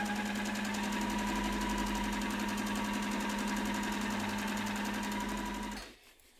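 Sewing machine running a straight stitch to hem a fabric rod bag, a fast, even mechanical whir with a rapid ticking rhythm close by, running steadily for about six seconds before stopping abruptly.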